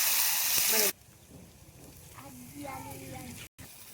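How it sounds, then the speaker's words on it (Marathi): Masala hits hot oil with cumin and bay leaf for a wedding-style potato and brinjal curry, bursting into a loud close sizzle that cuts out after about a second, then a quiet simmering hiss continues under someone talking. "आता टाकू आपण हा जो मसाला बनवला ना तो टाकून घेऊ."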